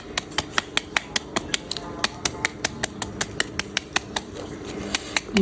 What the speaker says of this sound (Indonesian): mangga ini kita cacah-cacah seperti ini ya teman-teman.